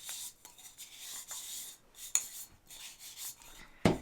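Light scraping and rubbing strokes over a painted pot surface to give it an aged look, a few soft rasping passes with a sharper scrape near the end, fairly quiet and close, no talking.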